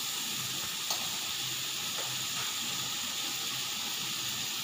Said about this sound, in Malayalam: നല്ല ചുമക്കുന്നത് വരെ ഇത് വഴറ്റിയെടുക്കാം.